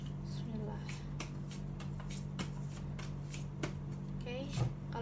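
Tarot cards being shuffled, a quick run of crisp riffling slaps and soft flicks repeating in an uneven rhythm, close and fairly quiet, with a low steady hum beneath.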